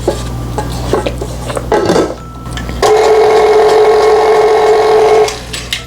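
A utensil scrapes the sides and bottom of a mixing bowl of cookie dough in clattering strokes, then a loud, steady electric mixer whir takes over for a few seconds before stopping.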